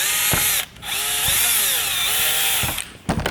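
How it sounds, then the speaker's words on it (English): A power drill drives a screw in a close, loud, whining burst that rises and bends in pitch, stops briefly, then runs again before cutting off, with no talking. "and then drill that in"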